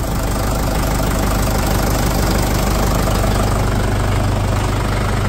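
Used diesel tractor engine idling, loud, steady and close, with a continuous knocking rumble and vibration and no pauses or voices.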